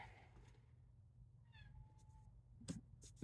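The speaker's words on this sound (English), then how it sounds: "Sorry, that was my cat." A single cat meow, fairly soft and brief, in an otherwise quiet room with a couple of faint knocks afterward.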